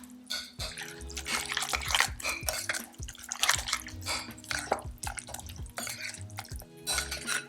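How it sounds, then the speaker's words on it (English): Sauce with white wine vinegar mixed in a bowl, giving repeated wet sloshing and clinking of a utensil against the bowl in an uneven rhythm, close and moderately loud. "give it a good mix"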